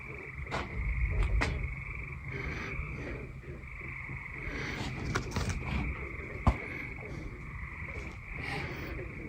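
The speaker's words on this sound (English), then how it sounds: "You hearing anything besides frogs?" Frogs croak in a wildlife refuge marsh, a chorus of raspy calls repeating irregularly at mid distance over a continuous outdoor hum, with a sharp snap near the end.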